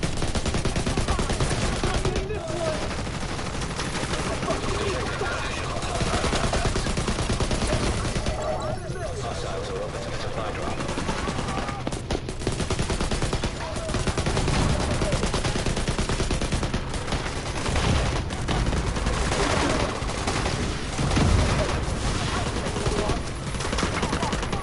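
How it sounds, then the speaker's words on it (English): Light machine gun blind-fired from cover in The Division 2, a sustained rattle of rapid automatic shots that runs almost without pause amid the din of a firefight. "Blind firing."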